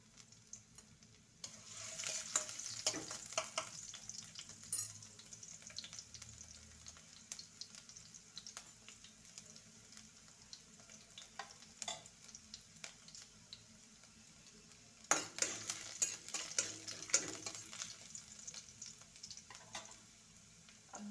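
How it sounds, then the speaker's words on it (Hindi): Ginger and garlic fry in oil in a kadhai while being stirred, a soft continuous sizzle broken by louder bursts of scraping and stirring, with faint clinks and quieter gaps between. "इसमें डालेंगे ऑयल, जिंजर और गार्लिक,"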